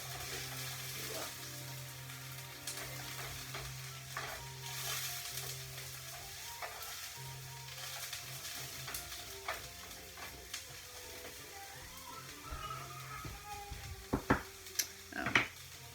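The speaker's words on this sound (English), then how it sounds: "I'm gonna stir up those onions again" Onions frying in a pan for a one-pan chorizo hash, a steady low sizzle with scraping stirs throughout and a few sharper clinks of the utensil against the pan near the end.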